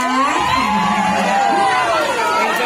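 Loud crowd at a live grand-opening concert cheering and whooping for a singer, a dense sustained roar of voices with shouts rising over it.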